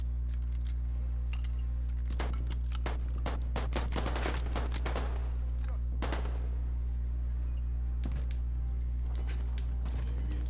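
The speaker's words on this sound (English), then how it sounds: "Hell yeah, fucking machine gun." Rapid bursts of machine gun fire crackle in clustered volleys in a Call of Duty: Modern Warfare battle royale match, sharp and close over a steady low hum, with a few isolated shots trailing off afterward.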